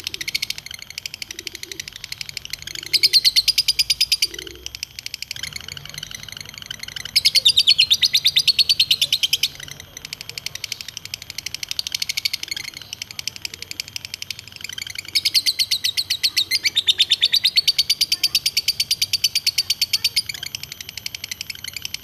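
A lovebird fighter delivers bursts of high, rapid chirping and trilling song, three long loud phrases separated by quieter pauses, close to the microphone.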